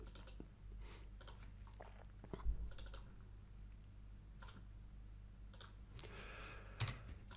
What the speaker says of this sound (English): double click, one click, double click, click once, double click